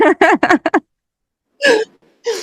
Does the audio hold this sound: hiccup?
yes